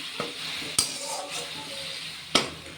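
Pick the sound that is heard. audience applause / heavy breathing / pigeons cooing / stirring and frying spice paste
stirring and frying spice paste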